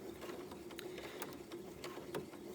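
A sewing machine stitches a seam in a quiet room, a faint, continuous mechanical whir with soft rhythmic ticks and no talk.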